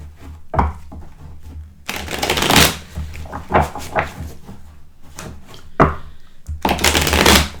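Tarot cards being shuffled up close in quick, rustling bursts with short pauses between them, each riffle loud and crisp in a quiet room.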